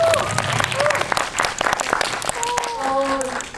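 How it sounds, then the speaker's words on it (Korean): An audience at a special film screening event with the cast claps in brisk, close applause that tapers off, with voices speaking over it. "마찬가지로 차성우 배우님께도 박수 한 번만."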